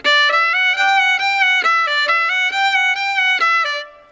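A bowed violin plays a steady run of notes, some strokes landing harder than others so the accents fall unevenly, heard up close and alone.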